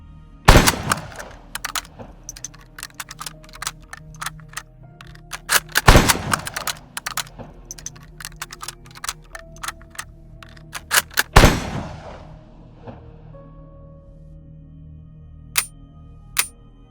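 Gunfire in The Dead Linger zombie survival game: three loud sharp shots spaced several seconds apart, each with a short ringing tail, amid a busy scatter of quieter clicks and pops.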